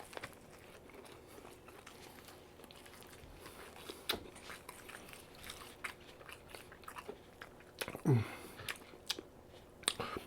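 Someone bites and chews a crispy double-breaded bang bang shrimp burger, with soft close-up crunches and mouth sounds, one louder crunchy bite partway through, otherwise quiet.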